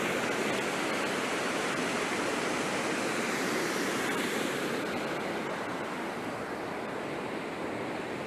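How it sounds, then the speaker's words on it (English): Rushing river water roars steadily and loudly, a dense unbroken hiss close by with no voices, in Launceston's Cataract Gorge. "Now we're away from the noise of the river."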